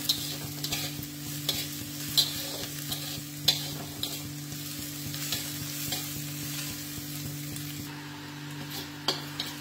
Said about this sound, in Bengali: পেঁয়াজটা প্রায় হয়ে যাচ্ছে ভাজা